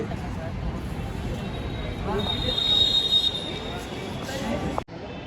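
A Delhi Metro train runs with a steady, loud low rumble, a faint high wheel squeal rising midway, and voices in the background.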